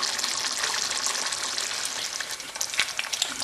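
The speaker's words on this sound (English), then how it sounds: "now you can start putting on the water" Water is poured into a thickening tomato pasta sauce in a hot pan, producing a close, loud sizzle and bubbling splatter with a few sharper spits.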